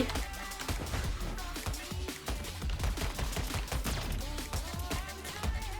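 Dense, rapid gunfire from the free rhythm-based third-person shooter BlasterBeat, with quick bursts of shots landing steadily over continuous game music.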